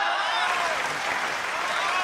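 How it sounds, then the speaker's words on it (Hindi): Audience applause at a Hindi-Urdu poetry mushaira, a dense steady wash of many hands clapping alone, fairly loud and sustained throughout. "भाई तालियां कम थी"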